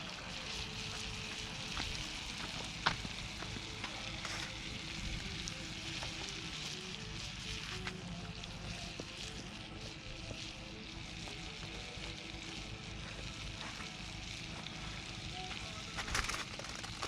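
Butter melts in a pan at a campsite, giving a faint, steady sizzle with soft crackles and a low background rumble running throughout.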